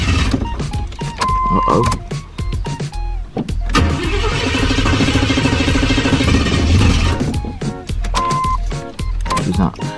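A truck, planned for a 12-valve Cummins swap, cranks repeatedly without firing, a steady rhythmic starter churn lasting several seconds between sharper clicks and clunks, loud and close, with a brief spoken exclamation.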